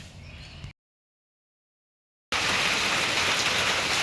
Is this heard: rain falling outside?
yes